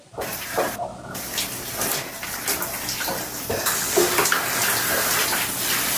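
Water pouring and running steadily into flour for dough, a continuous near splashing hiss that stays loud and even throughout.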